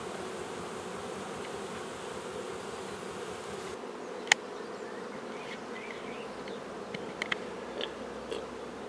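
Honeybees buzz at beehives in a steady, dense drone, close and constant, with a few faint clicks and taps breaking through toward the end.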